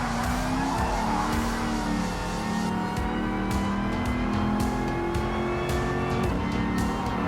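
KTM race car in the Gran Turismo Sport racing game, its engine droning steadily with shifting pitch while tires squeal and skid throughout, loud and continuous with no talking.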